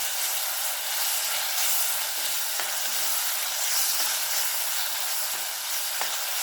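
Raw mango thokku cooking uncovered on a medium flame, giving a steady, loud sizzle and bubbling hiss with occasional soft stirring scrapes.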